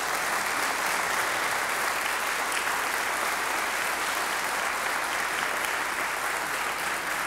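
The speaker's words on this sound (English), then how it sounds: "And y'all clap for these things." Church congregation in the sanctuary clapping, a dense, steady roar of many hands sustained for several seconds at full volume without letup.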